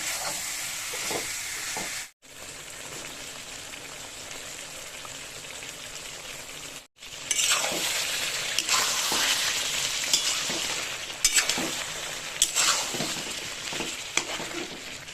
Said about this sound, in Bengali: এতে আমি ভাজা আলুটাও দিয়ে দেবো দিয়ে একসাথে এঁচোড়ের সাথে কষিয়ে নেব